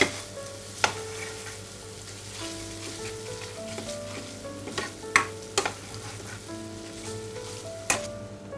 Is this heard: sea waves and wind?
no